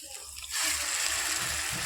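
A glass of yogurt for chutney slops into a pan with a short, soft wet splash that settles into a brief hiss, close and quiet.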